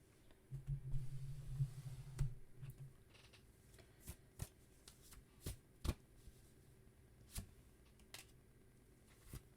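Tarot cards shuffled close and quiet, a few riffling bursts followed by scattered soft taps and slides of the deck, no talking.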